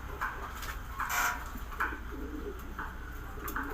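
Soft pigeon coos repeat in a steady rhythm, several low throaty calls close by with faint background noise.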